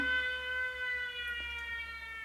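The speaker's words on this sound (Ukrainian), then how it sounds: "У нас знову сирена." An air raid siren in Ukraine wails steadily, holding a sustained tone, moderately distant, with no talking.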